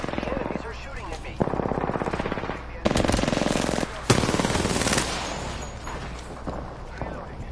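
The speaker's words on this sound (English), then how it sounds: "The enemies are shooting at me." Bursts of automatic gunfire ring out in the battle royale game Apex Legends, with several loud rapid volleys separated by short pauses and game effects in between.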